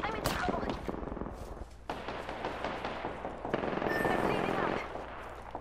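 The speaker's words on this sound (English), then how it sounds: "I am taking fire, friends." Gunfire in a multiplayer shooter, with dense overlapping shots and bursts that stay loud and continuous under busy game noise.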